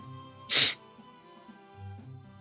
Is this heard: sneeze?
yes